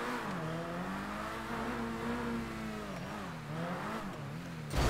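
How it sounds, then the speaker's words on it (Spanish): Engine of a race car accelerating flat out in GTA V, a loud sustained revving drone that climbs and wavers in pitch, heard alone without speech. "No me llega el coche acelerando al máximo"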